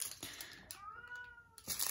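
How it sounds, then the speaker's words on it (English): Pet cat meowing indoors, one drawn-out clear meow in the middle with a few softer sounds around it, close and fairly quiet. "Now my cat is meowing."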